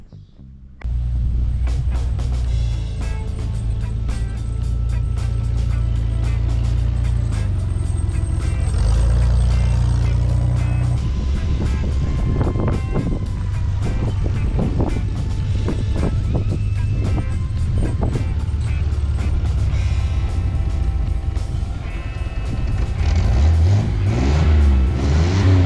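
A 1981 Chevrolet Malibu G-body is started outdoors and left running, its engine loud and close with a steady rumbling idle that swells with revs throughout.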